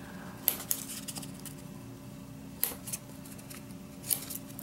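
Scissors trimming paper for envelope art, several crisp snips spaced a couple of seconds apart, close and fairly quiet against a faint steady background hum.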